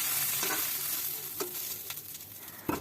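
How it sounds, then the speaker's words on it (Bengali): Small Maya fish fry in hot oil, a soft continuous sizzle close by with a few scattered clicks of a spatula turning them. "এই যে ঠিক এইরকমভাবে মাছগুলি ভেজে নিচ্ছি"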